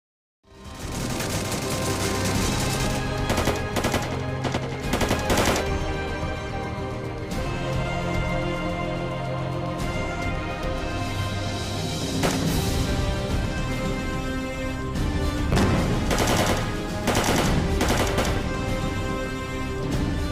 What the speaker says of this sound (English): in the segment that I'll share with you, there's just a few seconds of the characters shooting